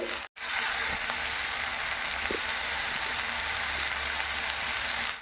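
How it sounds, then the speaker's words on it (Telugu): Vegetable pieces for veg pulihora sizzle and fry steadily in a pan, a continuous close hiss with faint crackles, briefly interrupted near the start. "ఇదిగో ముక్క వేగిందండి"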